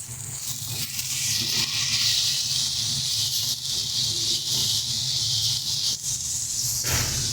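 Spice masala with ground coriander, cumin and salt fries in a pan, giving a steady, moderately quiet sizzling hiss with faint stirring scrapes throughout.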